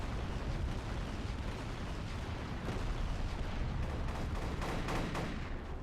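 Repeated explosions in a video game keep booming one after another in a dense, continuous barrage, loud and rumbling throughout with no talking.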